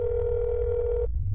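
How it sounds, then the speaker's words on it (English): A phone rings in the horror game That's Not My Neighbor, a single loud, steady electronic tone lasting about a second before cutting off over a low background hum, with no voices. "Someone pick up the phone."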